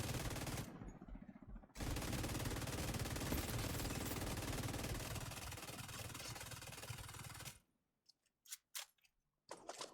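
An MK46 light machine gun in The Division 2 fires a long, dense, continuous burst of rapid automatic fire for several seconds, then stops, leaving a few scattered clicks and impacts.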